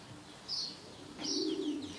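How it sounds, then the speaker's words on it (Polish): Racing pigeons arrive at a loft with two brief wing flutters and a low coo, soft and fairly close in quiet surroundings. "Udało nam się zdążyć na przylot gołębi"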